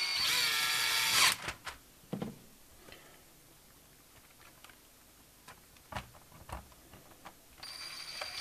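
A power screwdriver set to low torque opens a Canon TypeStar 4 thermal typewriter, whirring briefly and loudly at the start, then followed by scattered faint clicks and taps of parts, with another short whir at the end.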